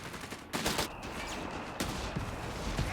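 Machine gun fire in Company of Heroes 3 sounds as sharp bursts of rapid shots at moderate distance, mixed with other battle noise and no talk.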